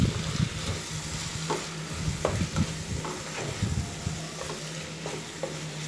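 Prawns fry in spiced masala for prawn malaikari, with a loud, continuous sizzle and crackle and repeated stirring scrapes at an uneven rhythm, close and without speech.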